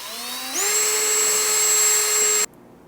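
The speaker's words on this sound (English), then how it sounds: "Let's just fucking drill a little bit more." A power drill bores a hole on a boat being refitted to sail around the world, for a diesel heater install; the motor whines up to a high steady pitch, holds for about two seconds, then cuts off abruptly.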